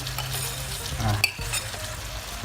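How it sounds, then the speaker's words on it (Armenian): Rice gets stirred into chicken breast pilaf in a hot pan, giving a close, steady sizzle with scraping spoon strokes and a sharp clink of utensil against the pan partway through. "և հիմա խառնում ենք բոլորը միասին"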